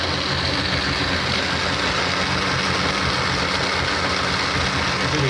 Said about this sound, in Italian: Accendiamo il nostro frullatore